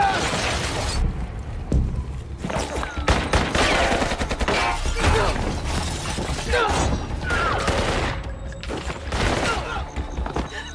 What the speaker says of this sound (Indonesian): di luar sana terjadi baku tembak di antara